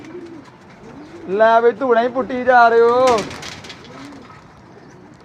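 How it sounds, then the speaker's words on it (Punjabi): Pigeons, among them a white-marked female, giving low soft coos near and far while someone speaks loudly over them. "ਚਿੱਟ ਵਾਲੀ ਕਬੂਤਰੀ ਵੀ ਫੜੀ ਏ।"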